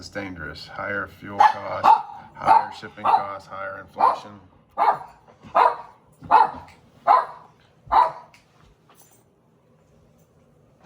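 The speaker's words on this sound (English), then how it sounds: "that was my dog" A dog barks about ten times in a steady rhythm, loud and close, under someone talking about markets, and the barking stops near the end.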